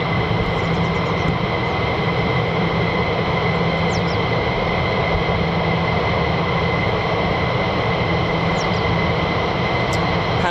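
Jet engine roar from an F-15 fighter of the 494th Fighter Squadron at RAF Lakenheath, a loud, continuous, steady broadband rumble with a sustained whine, held throughout without pause.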